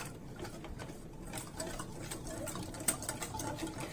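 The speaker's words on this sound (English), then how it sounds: "we're going to whisk the seasoning all together" A whisk beats seasoning into a paste for a vegan red bean veggie burger, giving fast, faint, regular ticking taps against the bowl over low background noise.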